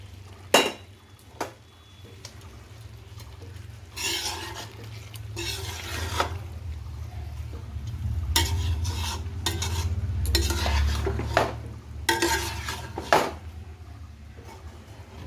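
Fried rice is stirred into a thick spiced biryani masala with egg in an oily pot, heard as repeated bursts of scraping and clinking from a metal spoon over a low, steady sizzle, near and without speech.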